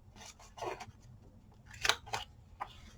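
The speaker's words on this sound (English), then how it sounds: "just take your scissors and just round them" Scissors snip around the corners of a paper file folder in a craft session, a few short crisp cuts close by, two louder bursts near the end, with no talking.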